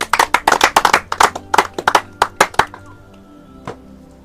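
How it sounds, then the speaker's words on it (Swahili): A small group claps their hands in quick, uneven bursts, loud and close, then the claps thin out to a few scattered ones before stopping. "mngepiga makofi"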